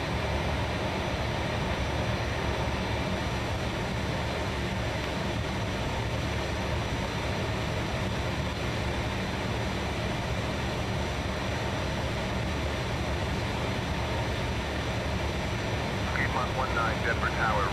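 A Fokker F28 jet in a flight simulator game rolls for takeoff out of Denver, its engine noise a steady, dense roar that holds loud and unbroken throughout.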